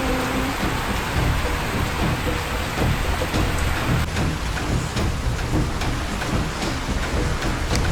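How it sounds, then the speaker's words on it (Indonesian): Heavy rain hisses steadily on Mount Slamet during a thunderstorm, with low rumbles of thunder rolling underneath, dense and continuous throughout. "Tapi kok lama-lama guntur. Badai."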